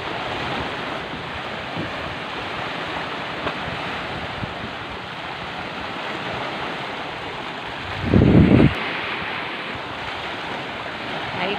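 Rough, whitecapped tropical-storm sea at high tide, with steady broadband surf rumble and wind buffeting the microphone throughout, plus one brief louder gust burst near the end.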